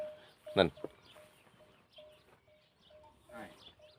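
A chicken clucks loudly once, then softer clucks and scattered farmyard bird calls follow over a quiet background.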